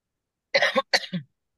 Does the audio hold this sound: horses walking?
no